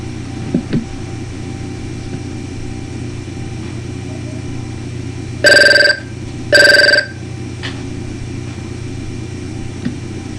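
A telephone rings twice in two short electronic bursts during a phone interview, loud and clear over a faint steady background hum, with no talking during the rings.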